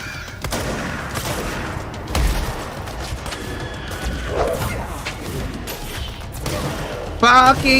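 Rapid bursts of enemy gunfire in the video game Control, sustained rattling shots with thuds and mechanical clatter throughout, while a player talks over the action.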